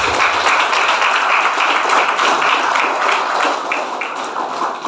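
Audience at an Islamic boarding school youth event claps in a dense, steady burst of applause that runs close and loud for about five seconds before easing slightly.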